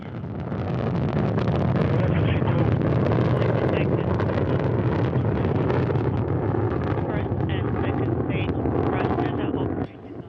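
Soyuz-FG rocket with four strap-on boosters and core stage thundering at liftoff, a loud, steady broadband roar with crackling texture that holds for about ten seconds before dropping off at the end.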